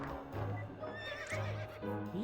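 A horse whinnies in the video game To the Moon, with several bright, wavering neighs in a row over a steady musical backdrop at moderate loudness.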